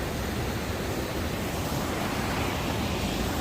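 The Beas river rushes beneath a bridge in the Solang valley area of Himachal Pradesh, a steady, dense roar of flowing water filling the whole stretch with no breaks and no talk.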